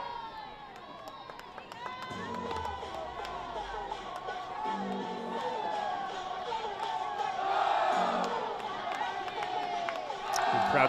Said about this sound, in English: Good crowds for both games of this twin bill, as Brooks said.